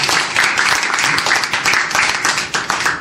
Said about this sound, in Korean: 오늘 정말 기분 대기님한테 다시 한번 박수 한번 보내드립니다